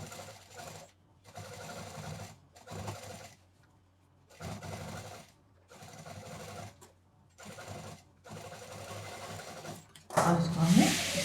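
A sewing machine stitches along the piping edge of a homemade tote bag, running in repeated close bursts of a few seconds each with short pauses between them, followed by a louder rustle at the end.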